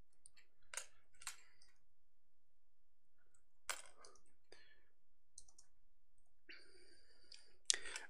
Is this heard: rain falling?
no